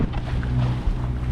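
A sailboat motors along on one engine at about 4.5 knots against the tide off Townsville, a steady low droning hum mixed with wind and water noise, no voices.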